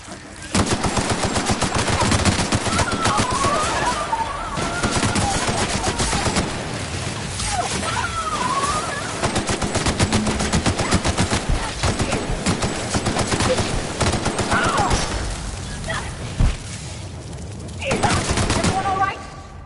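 Sustained gunfire in The Outer Worlds, a sci-fi shooter video game, with dense rapid bursts and volleys running loud throughout under game music and effects, with occasional voice lines mixed in.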